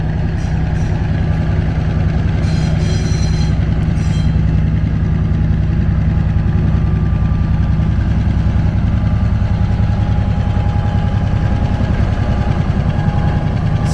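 An EMD diesel engine in a switching locomotive runs steadily, a loud continuous low rumble with a throbbing drone that does not change for the whole stretch, heard close with no talk.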